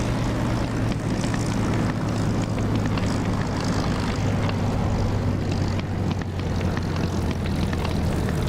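Propeller aircraft engine droning steadily on short final approach to the runway in the DCS flight simulator, a loud continuous hum with a strong low tone throughout, no talking.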